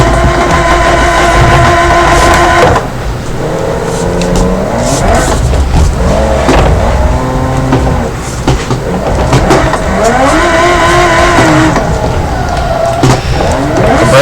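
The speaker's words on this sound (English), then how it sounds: "It's burnout time." A supercar in BeamNG.drive does a burnout: a loud, sustained high-revving engine with rising and falling pitch as it shifts, tires squealing throughout, close and constant.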